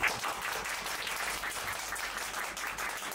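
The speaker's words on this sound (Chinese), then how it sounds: "刚才的表演是不是都很值得大家再一次给掌声" An audience applauds after a children's performance at a press launch, a steady wash of many hands clapping throughout, moderately loud and continuous, with no voices over it.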